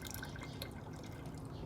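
Liquid fish fertilizer pouring into water in a short burst of splashing gurgles, close and continuous but fairly quiet, with no talk.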